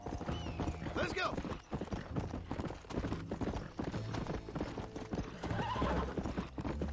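Galloping horse hoofbeats in the Western video game Red Dead Redemption, a steady rapid clip-clop with occasional whinnies, heard under game music and talk throughout.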